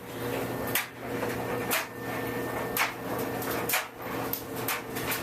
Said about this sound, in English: You can hear the beautiful, hypnotizing dryer in the background.